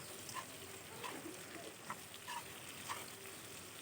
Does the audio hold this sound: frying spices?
yes